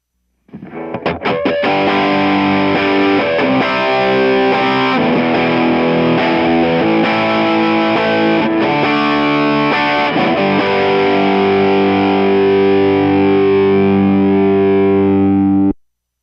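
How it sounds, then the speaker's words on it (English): Loud, sustained distorted electric guitar chords, recorded through an SM57 microphone, ring out alone, with a gritty buzzing tone that holds steady before cutting off abruptly. "All right, let's do some distortion."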